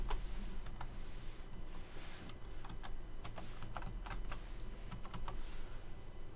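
Keys clacking on a computer keyboard while entering a phone extension number in NEC SV9100 phone programming software, a steady run of close, crisp taps with irregular rhythm over a low room hum.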